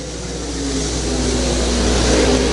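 USRA 305 sprint cars racing at the Belleville Nationals, a steady blended engine drone from several cars circling the track, building slightly in loudness, with no talk over it.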